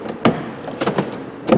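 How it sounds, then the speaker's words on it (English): Central locking on a VW Golf MK5 actuated with the key, with a few short mechanical clicks and clunks spaced over about a second and a half, faint and close. "However, with the key, it'll lock"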